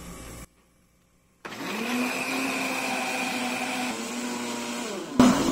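Blender whirring steadily for several seconds as it beats eggs into a mixture for a small pie batter, starting abruptly after a brief pause with a constant motor hum and a slight pitch dip near the end.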